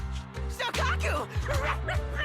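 A dog barks and yips in the video game Zenless Zone Zero, several short sharp calls mixed with whining, set over a steady low background hum.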